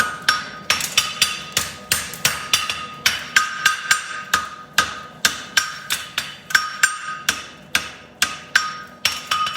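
A hammer strikes a hot egg bar horseshoe bent over the anvil horn, ringing out in about twenty sharp, evenly spaced metallic blows at close range, with no talk.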